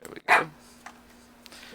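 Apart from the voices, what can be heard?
dog barking in the background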